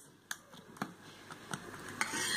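A masala omelette egg mixture being stirred in a bowl, with a utensil knocking the sides in about five sharp, evenly spaced taps over a soft background hiss; close, fairly quiet and without talk.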